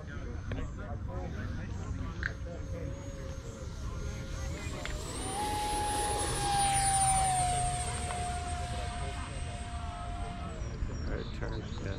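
Freewing Banshee 64mm electric ducted fan model jet with a 2500 kV motor on 6S, its whine rising and sweeping in pitch as it flies past, loudest mid-clip, with outdoor wind noise throughout.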